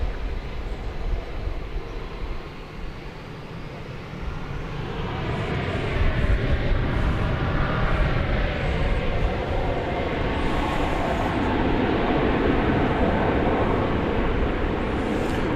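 An American Airlines Airbus A319 departs a runway at Dallas/Fort Worth airport bound for Denver, a broad steady jet engine roar that swells and holds loud and dense throughout.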